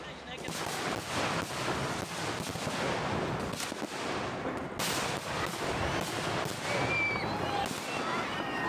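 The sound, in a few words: rocket explosion amid crowd at fireworks show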